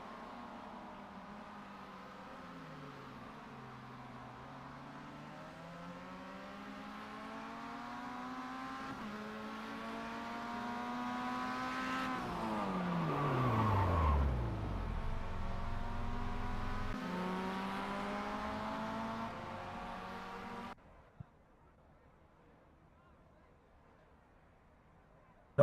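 A Mazda MX-5 engine on a racing lap in the iRacing simulator, revving up through the gears in rising sweeps, climbing to a peak, braking down and accelerating again before cutting off abruptly near the end.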